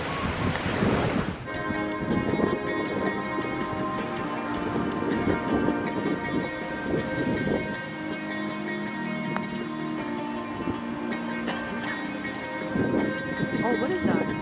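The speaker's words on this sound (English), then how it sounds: "but look at the waves." Ocean waves break on Queen's Beach in Waikiki, Hawaii, a steady washing roar of surf with a sharp gust at the start, heard under people talking.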